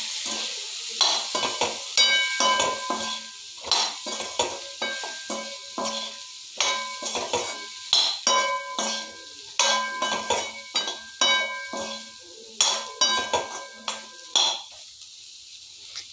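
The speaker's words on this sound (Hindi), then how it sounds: "अब इसको हम मिक्स कर लेंगे।" Spiced cauliflower sabzi stirred in a pan after turmeric powder goes in, with repeated scraping and clinking of a spoon against metal in uneven bursts over a soft, steady sizzle. No one speaks.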